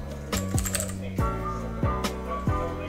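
Keys clatter in irregular bursts of taps on a computer keyboard while playing NBA 2K23 on PC, close by, over a low droning background.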